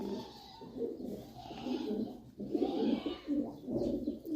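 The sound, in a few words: hungry pigeons cooing in loft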